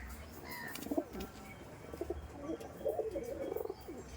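Pigeons coo softly in short, repeated bursts, low and faint but close, with a few scattered chirps and light background noise.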